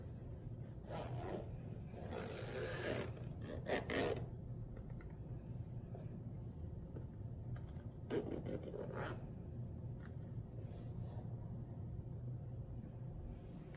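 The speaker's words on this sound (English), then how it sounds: "then I will gently zip up the case" A Game Traveler Deluxe travel case for the Nintendo Switch being zipped closed, with two bursts of scratchy zipper rasping, one longer and one short, over a low steady background rumble.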